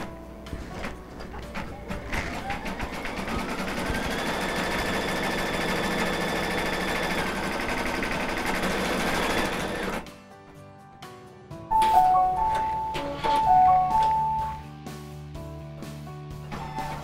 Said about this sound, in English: Now we're going to slip it back into the embroidery machine and it's going to do our decorative stitching on top